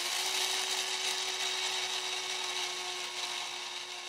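An electric grater shreds Parmesan cheese with a steady, close motor whir and a faint grinding rasp, the whine holding level throughout.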